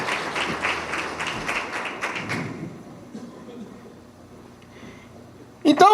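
A congregation in a Baptist church applauds in a short burst of clapping that fades after a couple of seconds into quiet room sound, ending with a sudden louder noise.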